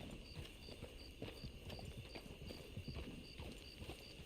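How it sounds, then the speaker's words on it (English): Steady clip-clop of horse hooves trotting at a quick, even rhythm in Red Dead Online, with a faint high electronic beep repeating in the background. "Do the little horse trot."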